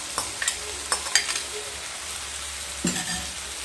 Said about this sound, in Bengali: এরপর ভেজে রাখা পেঁয়াজ আর ঢ্যাঁড়স দিয়ে দেব।